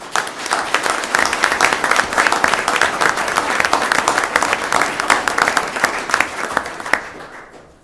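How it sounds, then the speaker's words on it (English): Audience applause at a city's State of the City address, a dense sustained round of clapping from a crowd that tapers off in the final second. "We get a round of applause."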